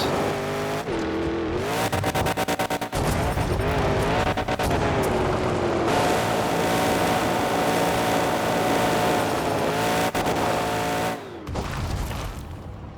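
Engine sound from a monster truck performing a backflip in the Monster Jam Showdown video game: a loud, continuous roar of revving with shifting pitch and a few abrupt drops in level, no voices heard.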